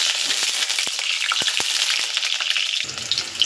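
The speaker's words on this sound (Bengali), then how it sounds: "প্রথমে পটলগুলো ভেজে নেব।" Pointed gourd (potol) pieces frying in hot oil give a steady, close sizzle, with a few sharp crackles and spatters as the pan is stirred.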